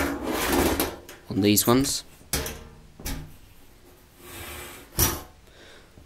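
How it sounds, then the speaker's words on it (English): The top cover of a Dell PowerEdge 2950 server is worked loose and slid off, giving scraping, rasping slides and a few clunks with pauses between them while someone talks briefly. "So we'll get the top off and have a look inside the server."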